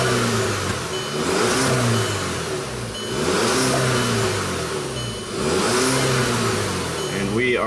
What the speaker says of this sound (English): So we are going to try to accelerate.